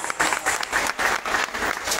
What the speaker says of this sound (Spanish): fuerte aplauso para que se escuche a todos estos muchachos y a todos los representantes de las fundadoras